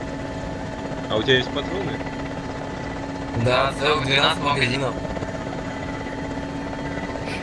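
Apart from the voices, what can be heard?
helicopter in ArmA 2 video game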